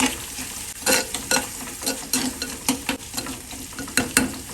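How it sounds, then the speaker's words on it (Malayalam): Sliced onions with salt sizzle in a frying pan for fish masala while a spatula stirs them in repeated scraping strokes, close and steady with no talking. "ഉള്ളിയൊക്കെ അതിലേക്ക് ഇട്ട് കൊടുക്കുകയാണ് ആവശ്യത്തിന് ഉപ്പ് ഉപ്പിട്ട് കൊടുത്ത ശേഷം ഒന്നിളക്കി കൊടുക്കാം"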